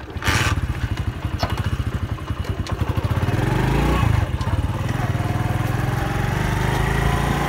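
A motorcycle engine runs close and loud in a Saraiki village, its steady throbbing idle rising and falling slightly with a few clattering thumps, continuous throughout with no talk.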